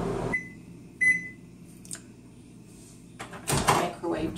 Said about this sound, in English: microwave just beeped